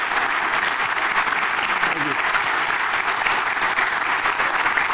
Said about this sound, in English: How about a round of applause for Tom Meyers?